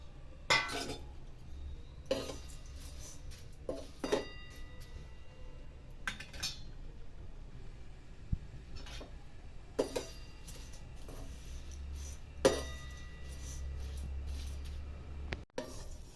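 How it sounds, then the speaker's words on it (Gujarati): Flattened rice (poha) is dry-roasted in a pan for chivda, with a quiet background and intermittent light clinks and scrapes as a spoon stirs against the pan at an irregular pace. "હવે પૌવા શેકવાના છે।"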